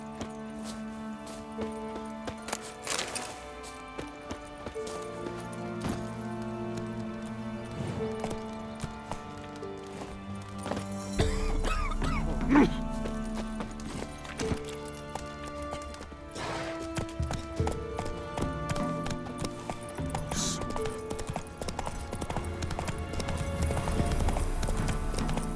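The horse Roach gallops in The Witcher 3, rapid rhythmic hoofbeats over game music and ambience, with louder surges of pounding around the middle and again toward the end.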